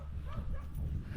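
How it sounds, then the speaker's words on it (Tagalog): Several dogs gathered outside a house in the Philippines, heard as a continuous cluster of yips and whimpering barks close by, with no speech over them. "Ano, ang daming aso."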